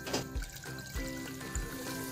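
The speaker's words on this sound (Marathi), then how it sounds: "जरासं असं परतून घ्यायचं आणि त्यानंतर त्याच्यात पाणी ओतून घ्यायचं" Water is poured into a pan of green vegetable bhaji that has been sautéed with turmeric, crushed garlic and kharda. It makes a brief, close splashing trickle broken by a few soft low thumps.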